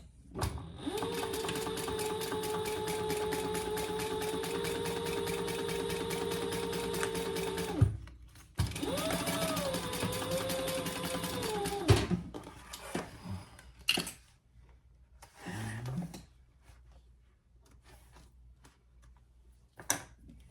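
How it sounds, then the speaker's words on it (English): A sewing machine top stitching a cork wallet runs in a steady, loud whirring burst of rapid stitches, pauses, then runs again before lighter handling noises follow. "we're going to turn that over and top stitch right there"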